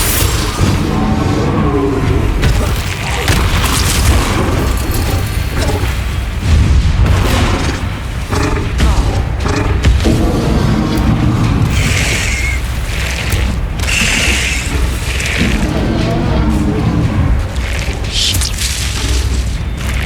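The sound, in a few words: Bombarda spell explosions in video game Hogwarts Legacy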